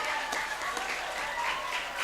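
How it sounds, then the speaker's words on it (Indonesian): Audience applause at an Indonesian madrasah (MTs Labbaika Samarinda) gathering, welcoming Mr. Agus Susanto; a steady, dense wash of many hands clapping fills the whole moment at moderate distance, with no break. "Kita beri sambut dengan tepuk tangan Bapak Agus Susanto."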